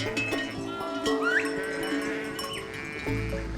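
Sheep and goats at pasture in the Rodna Mountains of Romania, with a few bleats standing out over a steady outdoor bed of bells and low rustle, moderately close.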